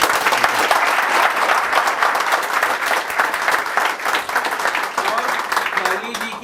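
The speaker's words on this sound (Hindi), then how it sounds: "एक बार जोरदार तालियां" Hearty audience applause at a hair and makeup academy event, with dense, continuous clapping from a close crowd that fades slightly near the end.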